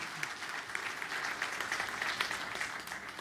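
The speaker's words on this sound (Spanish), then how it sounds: "Let's give them a round of applause." Steady applause from an audience, fairly faint and continuous, with a slightly distant, roomy quality.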